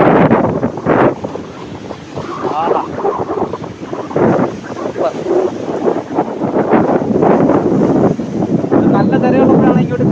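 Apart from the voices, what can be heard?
sea waves washing onto rocky beach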